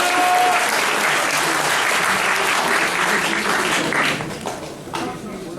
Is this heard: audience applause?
yes